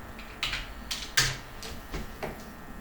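A few separate keystrokes on a computer keyboard while working in Nuke compositing software, light clicks spaced irregularly and heard close with no talking.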